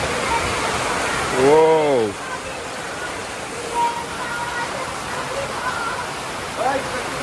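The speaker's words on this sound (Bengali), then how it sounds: "তো বাইরে বৃষ্টি নামে পড়ছে দেখতে পাচ্ছেন।" Steady rain falls outdoors in a village yard, its broadband hiss continuous throughout while people talk over it and a brief voiced sound rises near the start.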